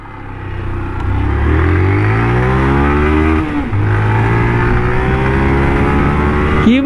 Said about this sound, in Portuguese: Nossa, que motinha macia,